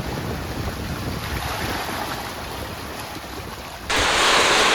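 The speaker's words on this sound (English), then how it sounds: "We're sailing. First time we're sailing in 3 days." Wind and waves roar steadily around a sailboat under sail on an open ocean crossing, with continuous broadband rushing and a sudden louder gust of wind noise near the end.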